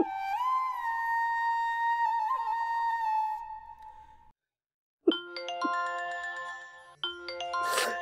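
A phone ringtone plays a bright electronic chime melody. After a brief silence it starts again with a second run of tinkling tones. The sound is clear and fairly close, with no talking.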